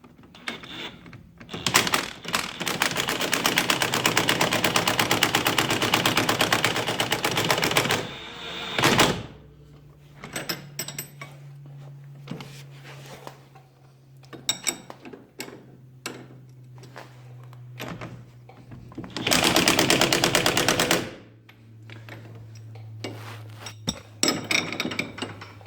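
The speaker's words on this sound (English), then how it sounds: "So I'm going to use an impact wrench, but on low setting." Impact wrench on a low setting tightening 19 mm tie rod nuts on a Can-Am BRP Commander side-by-side, with two loud sustained bursts of buzzing hammering separated by clanks and tool handling.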